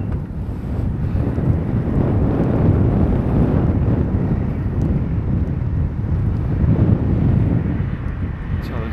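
Steady, loud wind buffeting the microphone during a bikepacking trip in Masuria, Poland, as temperatures drop; a continuous low roar with gusty swells and no clear pauses.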